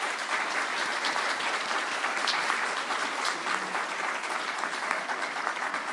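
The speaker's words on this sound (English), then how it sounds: "Would you all please give the candidates a round of applause?" Sustained audience applause at a Paducah mayoral and city commissioner candidate forum, a dense, even clapping texture at steady volume from start to finish with no talk.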